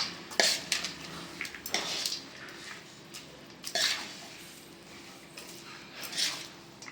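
A spoon scrapes and clinks against a metal vessel while tamarind rice pulihora is stirred together with fried peanuts and a cooled tempering, in a few separate close strokes over a steady low background, with no talking.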